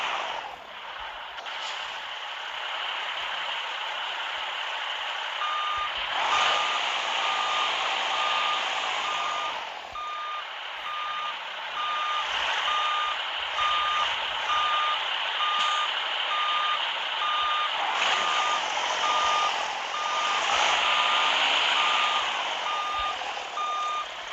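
In Grand Truck Simulator 2, a Volkswagen truck with a V-model body reverses into a dock, its backup alarm beeping steadily and evenly over a continuous engine drone for the whole stretch, with no talking.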